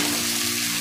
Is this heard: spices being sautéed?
yes